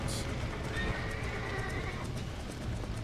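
A horse in Red Dead Redemption gives one clear, drawn-out whinny near the start, with clip-clop hoofbeats and game ambience continuing underneath and afterward.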